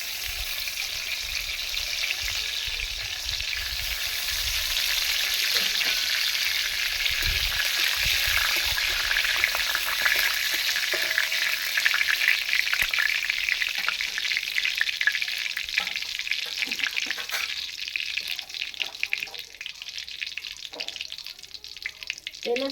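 Dried red chili, two bay leaves and whole cumin fry in hot oil for a Bengali-style banana stem dish, a loud continuous sizzle with occasional stirring scrapes that eases slightly toward the end.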